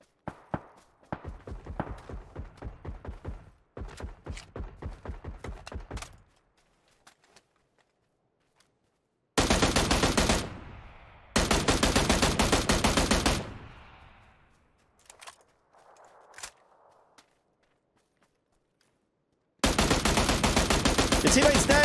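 P90 submachine gun fire in PUBG on console: long, loud sustained bursts of automatic shots, with a string of sharper, separate reports before them and quiet gaps between the bursts.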